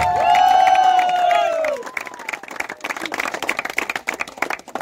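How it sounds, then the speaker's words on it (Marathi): Crowd applause at a village cricket tournament prize ceremony, starting after a loud sustained tonal sound fades, then rising into dense clapping and some cheering from a large outdoor gathering. "जोरदार टाळ्या वाजवा"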